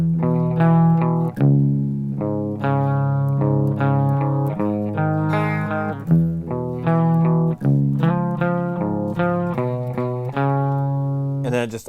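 Distorted electric guitar chugging through the verse chords of Nirvana's Heart Shaped Box, sustained harmonic power chords changing every second or so in a steady rhythm, loud and close.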